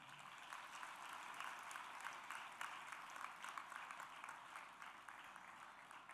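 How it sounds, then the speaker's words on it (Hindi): Audience applause at a Sahaja seminar gathering between performances, a steady wash of many hands clapping that holds at an even level throughout, with no voices over it. "तालियां"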